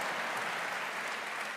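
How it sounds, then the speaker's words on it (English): Audience applause at a mayor's State of the City address, a dense, steady crowd clapping throughout the short moment. "would you all please stand and give my mom and sister and everybody a round of applause"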